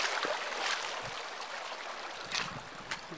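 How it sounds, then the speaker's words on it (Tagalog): A small mountain river flows in a steady, noisy rush, with a few brief splashes and gurgles rising above the continuous wash of water. "Maliit nga ng ilog."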